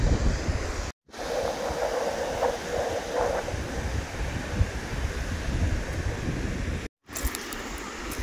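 Waves wash steadily onto Waitangi Beach in New Zealand, a broad, continuous surf roar with low rumble, heard close and loud with no talking.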